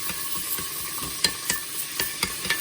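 A spoon stirs a pork chop seasoning mixture in a bowl, with a steady scraping swish and several sharper clinks against the side, close and alone without talk.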